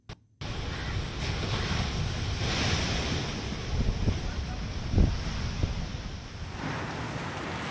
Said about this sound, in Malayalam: കണ്ണമാലി പ്രദേശത്തെ ജനങ്ങളുടെ വീടിനുള്ളിലേക്ക് കടൽ കയറി വരികയാണ്